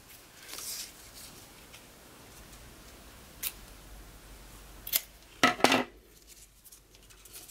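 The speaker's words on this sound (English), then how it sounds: "Lastly, we are going to ribbon cut the end of our 12-inch long single piece." Scissors snipping the end of a 12-inch single piece of ribbon for a peppermint hair bow, a couple of quick close snips after a quiet stretch, faint and alone.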